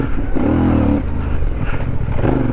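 A CF Moto 450 motorcycle engine drones steadily while riding, revving up and easing off in pitch, loud and close with no talk.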